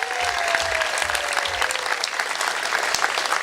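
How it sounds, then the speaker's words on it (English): A large outdoor crowd at a Republican Day gathering at the Illinois State Fair applauds steadily, a dense wash of clapping that holds at an even level throughout. "I want everybody to give a round of applause to the guy who took one of the most thankless jobs in the state of Illinois"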